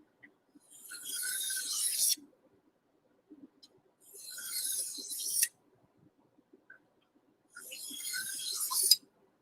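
A kitchen knife is drawn across a hard, fine whetstone in three long, even rasping strokes, each about two seconds long with short quiet pauses between them. The scraping is close and clear, with no talking over it.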